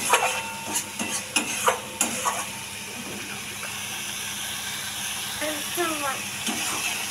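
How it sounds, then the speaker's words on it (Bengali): Water poured into a pan of sizzling potato curry masala gives a steady steam hiss and sizzle under the cooking, with a few sharp clinks and stirring knocks early on and a continuous bubbling crackle throughout. "এরপরে একটু জল দেব।"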